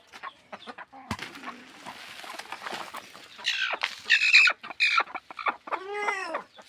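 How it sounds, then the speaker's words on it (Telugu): A brooding hen being lifted off her eggs gives scattered clucks that build into loud, harsh squawks and a final drawn-out cry, close by and without talk. "చూడండి ఇప్పుడు కోడిని ఎత్తున్నా"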